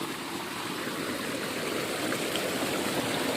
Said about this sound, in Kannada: ಇಲ್ಲಿ ನೀರನ್ನು ಹೆಚ್ಚಿಗೆ ಆತವ ಆಮೇಲೆ ನೀರು ತಳಗೆ ಹರಿದಂತವ ನೋಡ್ರಿ ಇವಾಗ